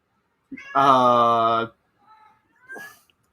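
Cats meowing in the background of a home livestream, one loud drawn-out meow followed by a couple of fainter, shorter calls.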